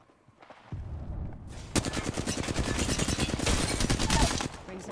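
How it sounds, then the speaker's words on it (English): Rapid automatic gunfire and bursts of shots in the battle royale shooter Apex Legends, starting quietly and then erupting into a loud, dense, continuous barrage of overlapping weapon fire that keeps up to the end. "The enemies are shooting at me."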